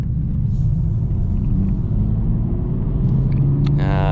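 A tuned BMW 440i drives on a mountain road, its engine and exhaust giving off a steady low rumble that fills the whole stretch, with a faint higher whine rising near the end.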